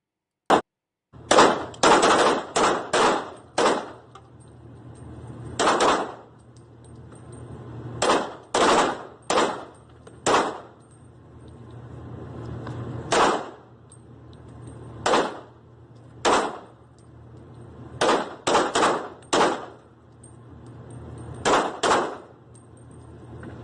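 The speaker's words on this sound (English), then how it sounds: "this is a live fire training exercise with the police officers" Police officers fire weapons in a live-fire training exercise, giving loud, sharp shots in irregular bursts and singles over roughly twenty seconds, while a low steady rumble sits underneath.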